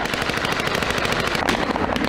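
Rapid automatic gunfire during a Russian military combat exercise, dense continuous bursts of loud shots with no pauses, no speech.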